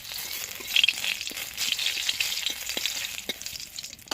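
Bay leaves and dried red chillies drop into hot oil for tempering, a soft continuous sizzle with crackles and small pops, close and fairly quiet.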